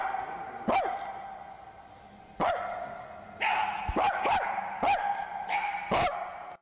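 A dog barks close and loud, about seven sharp barks in irregular bursts: single barks at first, then a quicker cluster, over a quiet background with no talking.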